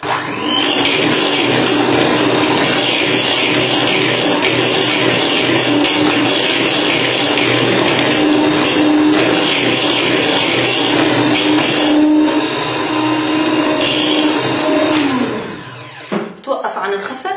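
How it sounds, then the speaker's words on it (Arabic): An electric mixer whisks eggs and sugar at high speed for anise cookie dough, a loud, steady whir that holds for about fifteen seconds before winding down and stopping. "برجع بخفقهم على سرعة عالية"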